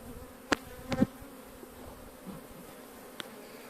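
A faint, steady hum of honeybees buzzing around a hive being worked, with a few sharp knocks and clicks from handling the frames, quiet and close with no voices.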